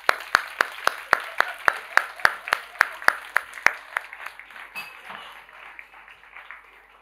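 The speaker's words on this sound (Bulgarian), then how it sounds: "Искам да посрещнете с аплодисменти нашите лектори Светлина Колева и Благой Иванов." An audience welcomes two lecturers at an event with rhythmic clapping in unison, about a dozen sharp, evenly spaced claps in a steady beat before the clapping breaks up and fades into scattered room noise.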